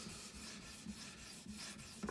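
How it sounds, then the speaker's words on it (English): A folding hunting knife blade is drawn across a 650 grit diamond sharpening stone on an Edge Pro sharpener, a soft rasping scrape in steady repeated strokes, close and quiet, no talking. "Moving on to the 650 grit diamond matrix stone."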